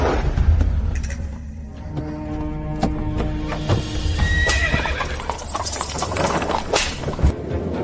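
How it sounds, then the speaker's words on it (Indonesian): A horse whinnies loudly nearby while its hooves clip-clop in a steady rhythm, with some rattling mechanical clatter mixed in. "katakan pada penjaga gerbang untuk menyiapkan kuda"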